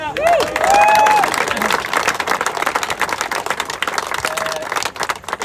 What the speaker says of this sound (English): So I'd like a round of applause for